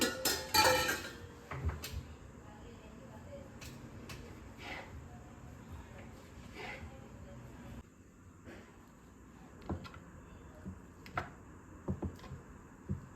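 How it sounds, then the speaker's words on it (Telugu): A knife cutting a block of paneer into cubes on a board, producing soft, sparse taps and light knocks spaced irregularly, faint and close, after a louder clatter of kitchenware at the start. "ఇప్పుడు మనం పనీర్ని క్యూబ్స్ కింద కట్ చేసుకుందాం."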